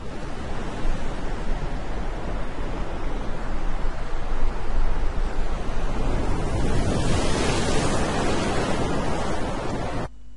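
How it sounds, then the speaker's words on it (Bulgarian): Ocean surf rolls in continuously, a loud broadband wash of breaking waves that swells stronger toward the end, with no voices. "Полюбувахме се на вълните"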